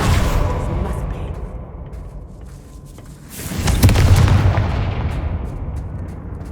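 A Confringo blasting spell explodes in Hogwarts Legacy, a loud booming burst midway that swells over a rumbling game-combat background and then slowly decays, with faint voice under the noise.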